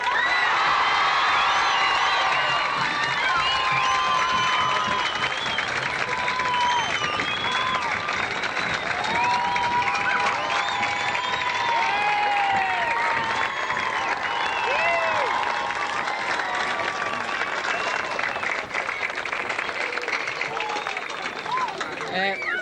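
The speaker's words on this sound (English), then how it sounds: "I'd like to thank you all very, very much for that marvellous round of applause." A festival audience applauds and cheers at the 1984 Lifford/Clonleigh Festival opening for boxer Barry McGuigan, a loud, sustained wash of clapping with whoops and crowd noise running the whole time.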